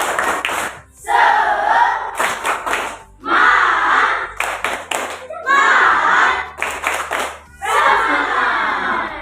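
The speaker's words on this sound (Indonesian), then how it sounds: "Satu, tepuk semangat." A class of pupils performs a rhythmic spirit clap in groups of quick claps and chanted shouts, four loud bursts separated by short pauses. Children's voices call out with the clapping.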